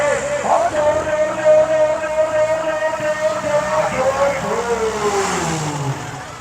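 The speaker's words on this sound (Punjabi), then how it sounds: "ਹੁਣ ਤਾਂ ਉਧਰੋਂ ਬੱਸ ਵਾਂਗੂ ਆਇਆ ਟਰੈਕਟਰ" Arjun Novo tractor engine hauling a loaded trolley, a steady droning roar with a rising, straining pitch as it pulls. It stays loud and near the whole time.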